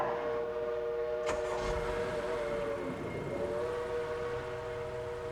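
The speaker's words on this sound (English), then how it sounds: "I could hear its bell ringing and the cry of its whistle." A train rumbles in the distance as a steady two-tone whistle sounds, with a sharp clank partway through; no bell is clearly distinguishable.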